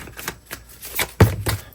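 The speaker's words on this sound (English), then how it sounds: "Very quiet shuffle for you this week." Tarot cards are shuffled quietly at close range, giving a handful of soft, irregular riffling taps and slaps over just under two seconds, with no voice.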